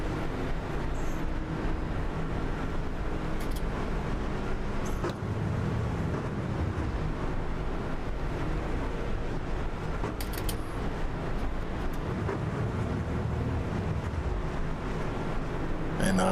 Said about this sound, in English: So you can hear Nathan Somerville, he's just going nice and easy on that throttle.